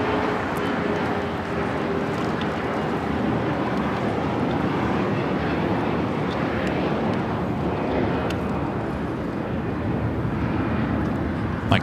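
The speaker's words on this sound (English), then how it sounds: "China Cargo Airlines flight 222 heading back to Shanghai, 777 freighter lining up" A China Cargo Airlines Boeing 777 freighter lines up for departure at Los Angeles International Airport, its jet engines giving a steady, broad roar that holds at an even level throughout with no voices.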